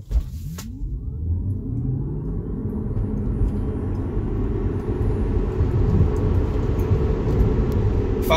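A Tesla Model 3, stripped of extra weight with tires at proper pressure, launches from a standstill to 60 mph, its steady electric drive whine and road rumble building continuously and loud from start to finish.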